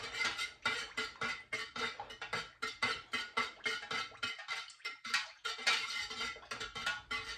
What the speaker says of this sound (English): I'm just going to put my fragrance in and I'm just going to stir it round